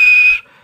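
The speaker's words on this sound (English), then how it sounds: "And he blew his whistle." A toy-like steam engine's whistle gives one steady, shrill blast lasting under half a second, then cuts off abruptly, leaving a faint, fading tail.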